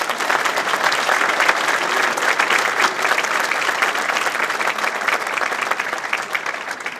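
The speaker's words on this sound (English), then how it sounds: "Let's give a big round of applause." An audience at a Rotary foundation dinner breaks into sustained, dense applause, many hands clapping steadily and loudly for the whole stretch with a faint crowd murmur beneath.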